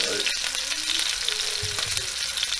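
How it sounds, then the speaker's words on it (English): Rabbit pieces brown in a frying pan, with a steady loud sizzle and crackle of hot oil and occasional scraping bumps as they are moved around. "So we'll brown these up nicely."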